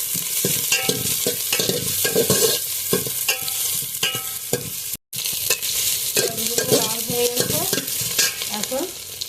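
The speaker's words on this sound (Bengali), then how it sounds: "তেজপাতা পেঁয়াজ কুচি এখন লাল করে ভেজে নেব" Bay leaf and chopped onion fry in hot oil, sizzling loudly and steadily with frequent stirring scrapes and clinks, cooking until reddened. There is no talk, and one very brief dropout comes midway.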